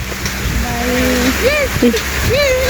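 Steady rain falls outdoors, a continuous broad hiss heard throughout, with people talking over it and a few short whistling tones.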